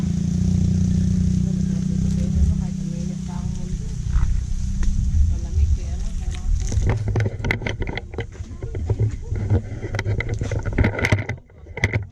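A motorcycle engine revs and sputters nearby, rising into loud irregular bursts after a steady low rumble.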